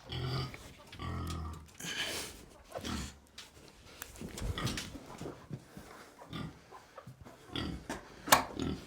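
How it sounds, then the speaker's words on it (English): Pigs grunt, snort and oink close up while eating, in irregular bursts, with smacking and shuffling sounds between the calls. "All right, pigs are eating."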